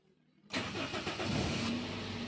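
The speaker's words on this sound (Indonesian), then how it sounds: "sekarang kita coba untuk ngidupin mesin" A Toyota Etios Liva sedan engine cranks and catches at about half a second, then settles into a steady, close idle that fills the rest of the short clip with no talking.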